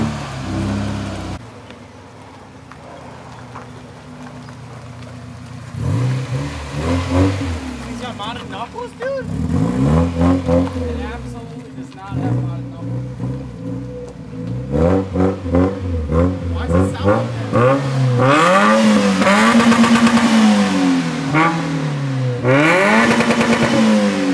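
A car engine with a bent frame and faulty muffler revs repeatedly, rising and falling in pitch with a droning, slightly odd exhaust tone, and people talk nearby over it.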